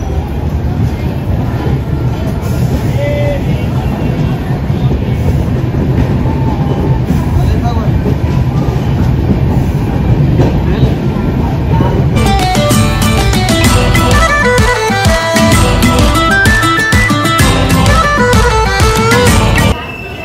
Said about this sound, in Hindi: सो गाइस ये हो गया चंद्रपुर रेलवे स्टेशन।